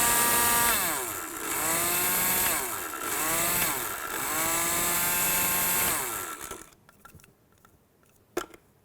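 Electric grinder whirring loudly at close range while grinding spices for chicken nihari, running steadily for about six seconds in pulsing surges before it cuts off and a few small knocks follow.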